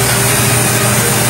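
Motorcycle engine running after piston work on a daily-use bike, a loud, close, steady idle with a constant hum and no voices.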